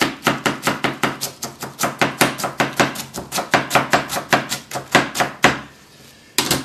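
Rapid, even knife strokes slice a cabbage finely on a cutting board, about twenty crisp chops in a steady rhythm, close and loud, with a short pause near the end before a final cut.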